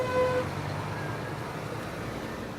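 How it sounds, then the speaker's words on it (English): Car horns toot on a French roadway near a tunnel and roundabout during a yellow vest protest, a couple of short honks at the start over steady traffic rumble. "I appreciate people honking their horns for us."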